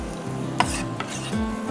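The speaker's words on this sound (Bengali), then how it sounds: "আমি গার্লিকটা দিয়ে দিচ্ছি এখানে।" Garlic dropped into hot oil in a pan, giving a brief sizzle with a couple of clinks of a utensil against the pan, close and moderately loud.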